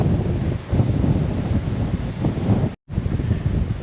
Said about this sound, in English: Oh, she's windy.